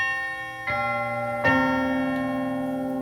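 Strident chime percussion voice of a Baldwin D422 organ, two bright bell-like strikes in quick succession, each ringing on with a long sustained decay, close and clear with no talking.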